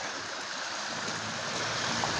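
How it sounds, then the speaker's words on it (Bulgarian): Rainwater running down a street in Haskovo, carrying stones and loose material, rushes as a steady, broadband wash with no talk. "целият този материал, водата го отнася и го свлича надолу по улицата"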